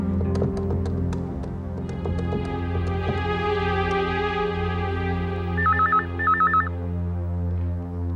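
A telephone rings in two short warbling electronic bursts near the end, partly masked by a dramatic TV-serial music score; no speech.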